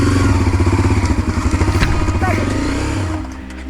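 A motorcycle engine labours and revs in steady pulsing bursts while climbing a steep slope at night, loud and close, then drops to a lower idle near the end.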